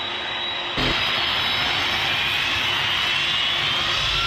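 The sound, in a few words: fireworks tied to a toy airplane's wings burning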